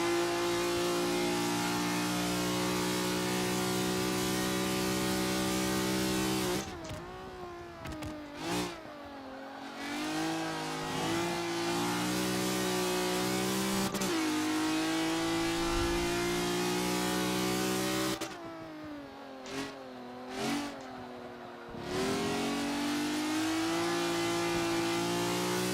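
A race car engine in a driving video game revs hard through a lap, climbing and falling in pitch through gear changes, easing off twice for corners before accelerating again, loud and continuous throughout.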